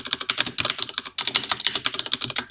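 Rapid clattering keystrokes on a computer keyboard, close and continuous, with a brief pause midway before the typing resumes.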